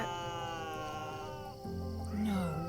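A cat in the video game The Good Life gives a rising, wavering meow near the end, following a sustained tonal drone of game music. Faint chatter sits underneath.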